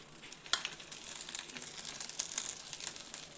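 Farali snack frying in a pan as a little oil is poured in at the edge, giving a soft, steady crackle and sizzle with small pops, close and fairly quiet.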